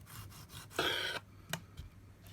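A serrated knife saws through a tomato, cutting off the ends, with a few close scraping rasps, one longer stroke and then quick short clicks against the board, quiet and without talk.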